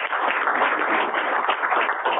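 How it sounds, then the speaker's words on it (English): Employees give a round of applause on an all-staff call, a dense, steady patter of clapping that sounds thin and muffled, as if heard through a phone line. "I think that deserves a round of applause."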